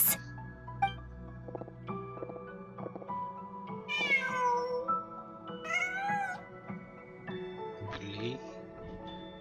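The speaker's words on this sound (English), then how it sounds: "Huh. Just a cat." A cat in Genshin Impact meows several times, short rising cries spread across the stretch over a bed of soft game music.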